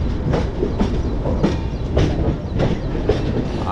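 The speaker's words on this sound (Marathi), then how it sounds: "तिकडून लोकल जाते" A train rolls near Panvel station on a rainy day, with steady rumble and repeated rhythmic clickety-clack wheel beats over rail joints, loud and close throughout.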